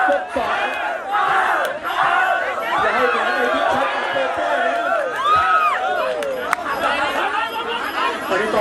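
A crowd at a Thai charity boxing match held in a temple courtyard cheers and shouts continuously, dense overlapping voices and yells throughout, loud and close.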